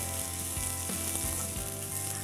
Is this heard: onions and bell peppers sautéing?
yes